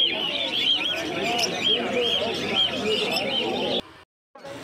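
Dense, continuous chirping and chattering of many budgerigars at a crowded pet bird market in Uluberia, with a short break near the end.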